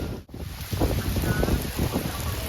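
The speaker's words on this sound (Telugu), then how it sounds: "ఇక్కడైతే ఫుల్ వర్షం అనమాట" Heavy rain pours down at an outdoor attraction beside a rainbow slide in Vietnam, a steady dense wash of noise with some wind buffeting the microphone and faint voices underneath.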